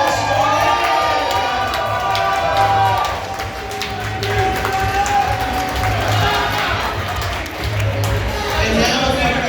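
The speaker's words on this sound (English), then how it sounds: "let's get a special round of applause for your maid of honor, Emily Spybrook, and your best man, Thomas M" Wedding reception guests clap and cheer loudly in a crowd, with whoops and shouts rising and falling across about ten seconds.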